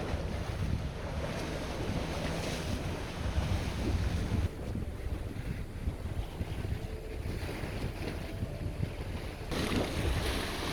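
Rough sea waves wash steadily against a rocky Ligurian shore during rockfishing, with continuous surf roar and heavy wind noise on the microphone and no voices.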